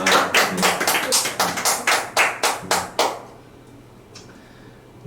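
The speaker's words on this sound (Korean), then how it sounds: "이 박수로 환영하겠습니다." A church congregation in a Korean service claps in welcome: about ten sharp, evenly spaced claps in a steady rhythm that stop abruptly, leaving a quiet room with a faint stray sound.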